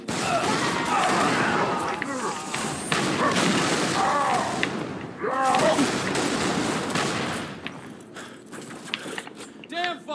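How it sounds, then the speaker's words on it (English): Grenade blasts and gunfire in Halo 3: ODST co-op, sharp shots and booming impacts in loud irregular bursts that thin out toward the end, with voices talking over the combat. "Look out, grenade!"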